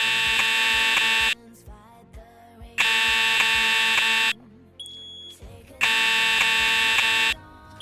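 A fire alarm built in Roblox blares in three long, loud bursts of harsh buzzing tone, each about one and a half seconds long, with short quiet gaps between them that hold faint background sounds.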